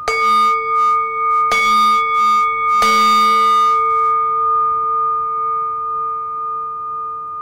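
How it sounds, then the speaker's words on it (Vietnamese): Buddhist temple bell struck three final times at a slow, spaced pace, each loud near strike followed by a long shimmering ring that fades gradually into silence. "Đây gọi là đánh một hồi chuông."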